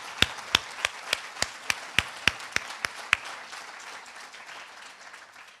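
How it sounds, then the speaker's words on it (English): Ceremony audience at a School of Dentistry declaration clapping for oral hygiene students, a sparse, fairly quiet applause with a few distinct loud claps in a steady rhythm that thins out and fades toward the end. "another round of applause for oral hygiene students"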